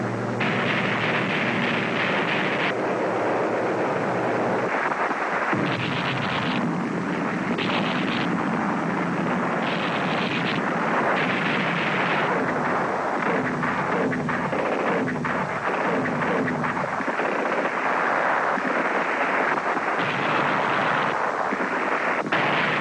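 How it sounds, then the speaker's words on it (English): Naval and air bombardment with artillery fire in old wartime footage, a dense, loud, continuous roar of blasts and rumbling explosions with no clear gaps and no talking. "In spite of the naval and air bombardment, the resistance is heavy beyond expectations."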